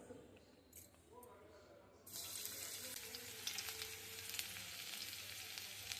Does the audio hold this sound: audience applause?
no